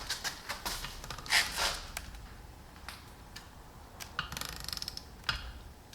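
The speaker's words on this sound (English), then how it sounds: "Now you just want to set your torque wrench to 20 foot-pounds" A torque wrench set to 20 foot-pounds tightening bolts during a top-end swap on a 1997 Ford F-150 4.6L, giving close, repeated ratcheting clicks in short irregular bursts.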